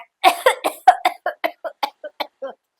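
A voice imitates a run of coughing, about a dozen short hacking bursts in quick succession that gradually soften.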